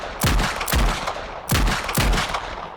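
Four sharp pistol shots ring out in a World War I film scene, fired in two quick pairs, each a loud crack followed by a brief echoing tail.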